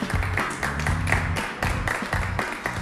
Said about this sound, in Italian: oggi avete l'applauso facile